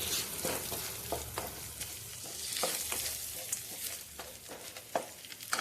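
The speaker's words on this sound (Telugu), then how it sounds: "వేగినాయి కదా ఉల్లిపాయలు ఇంకా కొంచెం వేగుతాయి" Onions frying in a pan for prawn biryani, with a steady hiss of sizzling oil broken by occasional stirring scrapes and clicks, fairly close.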